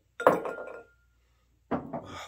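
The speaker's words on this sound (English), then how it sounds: "I'm going to take an ice cube." An ice cube drops into a glass, giving a bright clink followed by a short rattle, then a second clinking burst a moment later, close and fairly quiet.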